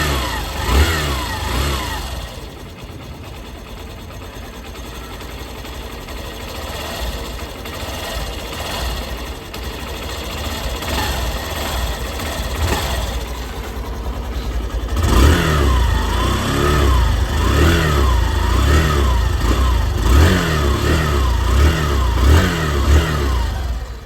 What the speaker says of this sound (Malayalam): അപ്പോൾ ഞാൻ വണ്ടി ഒന്ന് സ്റ്റാർട്ട് ചെയ്ത് നിങ്ങൾക്ക് എൻ്റെ എക്സോസിൻ്റെ അതുപോലെ തന്നെ എഞ്ചിൻ്റെയൊക്കെ സൗണ്ട്